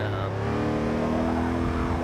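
A 1970s muscle car's engine is held at full throttle after a downshift, roaring loudly and steadily with a rising harmonic drone and no pause over two seconds.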